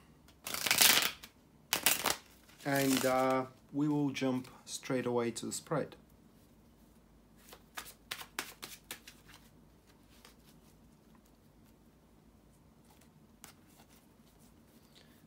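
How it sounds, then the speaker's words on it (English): Tarot cards are shuffled with quick riffling rustles and soft flicks, following a short stretch of speech at the start. "to shuffle the tarot cards"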